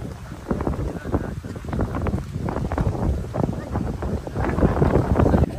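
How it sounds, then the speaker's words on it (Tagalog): Strong wind gusting across the open volcanic terrain of Mt. Pinatubo, a dense, steady rumble of buffeting air against the microphone that swells louder toward the end, with voices faintly underneath. "Lakas ang hangin dito, yung hangin kala mo aircon."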